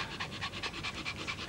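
A Chinese shar-pei, a wrinkle-faced dog breed, pants steadily in quick rhythmic breaths, about six or seven per second, close and moderately soft with no talk over it.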